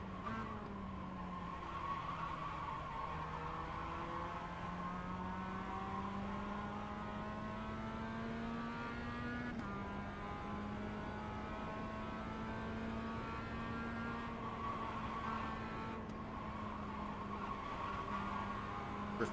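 A Mazda MX-5 race car drives a lap in the sim racing game iRacing, its engine droning steadily and shifting pitch through corners for the whole stretch, with faint tire noise underneath and no talk.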